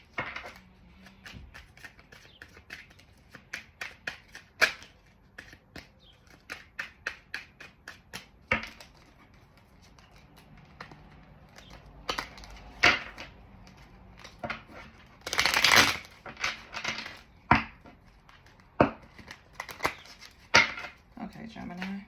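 Tarot cards being shuffled and drawn by hand for a reading, a quick run of crisp flicks and slaps with louder riffle bursts partway through, close and fairly loud, with a voice talking intermittently.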